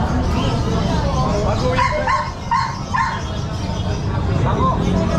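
Dogs at a pet shop in the Philippines, among them chihuahuas, golden retrievers, Pomeranians, beagles and pugs, give scattered yips and whimpering barks over steady crowd babble, while people talk nearby.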